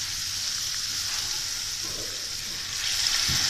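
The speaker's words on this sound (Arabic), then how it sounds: "لما تلاقي التومة خلاص قربت تصفر، هسيبها لغاية لما تصفر يعني، هنزل عليها بالخل" Garlic frying in oil sizzles in a steady, even hiss as vinegar hits the pan, a brief bubbling swell near the end; no voices.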